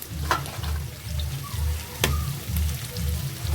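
Spices sautéing in a pan while being stirred for a Bengali home dish, a steady sizzle with soft scraping and rhythmic low thumps of the spatula, close and alone.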